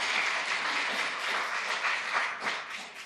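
A council meeting audience applauds, a dense, steady wash of hand clapping held at moderate volume for a few seconds before tapering slightly.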